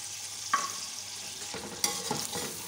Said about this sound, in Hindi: थोड़ा सा देर इसको भूनेंगे हम और फिर इसके अंदर हम ये डाल रहे हैं गरम मसाला, छोटी इलायची, काली मिर्चें, लौंगे और दालचीनी